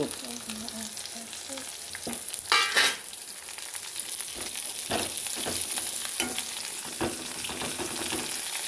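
Drumstick leaves frying in a pan for dal, a steady close sizzle broken by irregular scraping and clacking strokes of a spatula stirring them.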